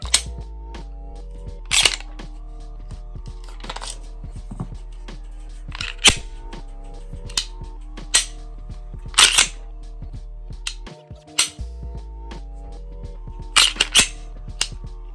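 A PSA Dagger pistol is put through a function check, giving sharp, close metallic clicks of the slide racking and the trigger snapping, spaced every second or two over a low steady hum.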